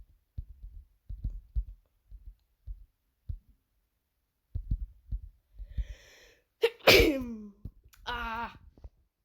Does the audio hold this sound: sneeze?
yes